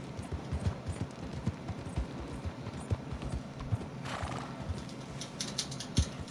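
A horse walks at a steady pace, its hooves clip-clopping in a regular rhythm close by, with a brief burst of brighter metallic rattle partway through and no talk.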